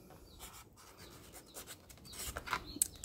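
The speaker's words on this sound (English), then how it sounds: "So I'm drawing around these" Pencil drawing around cardboard discs for a homemade Tower of Hanoi game, a quiet scratchy rubbing that comes in short strokes and grows a little louder toward the end, close up with no talk.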